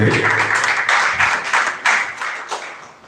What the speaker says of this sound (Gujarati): બસ તાળીઓ તો ન ખૂટે, બીજું બધું ખૂટે.